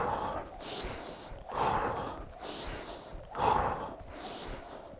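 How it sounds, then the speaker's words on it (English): Heavy rhythmic breathing from someone skipping rope, each breath swelling and fading in a steady pattern timed to the rope, close up and continuous, with the rope taps on the floor barely distinct. "hopefully you can hear the clips on the floor and you can hear the breathing in time"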